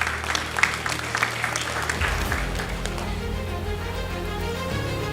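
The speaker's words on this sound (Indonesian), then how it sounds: "Tepuk tangan untuk kita semuanya." Applause from the audience at a graduation ceremony for 702 STPN students, steady dense clapping that swells slightly and holds, with a low sustained hum underneath.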